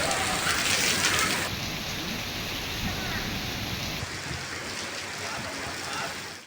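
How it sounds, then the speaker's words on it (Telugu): Heavy rain driven by gusty wind during an untimely storm in Telangana, a dense steady hiss and patter that stays loud and continuous throughout with no pauses. "ఈదురుగాలులతో కూడిన భారీ వర్షం ప్రజలను ఇబ్బందులకు గురిచేసింది."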